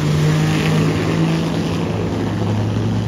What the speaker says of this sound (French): Et les voitures Ferrari 250 Testarossa, Ferrari 750 Monza qui viennent de passer.